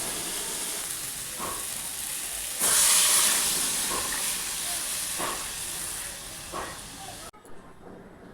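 Tomato dal boiling in a pot on a home stove, a steady bubbling hiss with a louder surge partway through, close and continuous before cutting off near the end.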